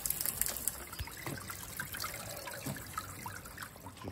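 Water trickling and running down a drain in a honey-processing room where frames get washed, a soft, continuous gurgling flow heard close but quiet, with no talking.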